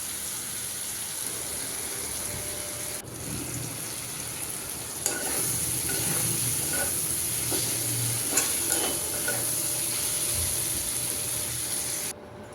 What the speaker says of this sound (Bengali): আমি এদিক দিয়ে ওর বাবার জন্য একটু পেঁপে আর আলু ভাজি করতেছি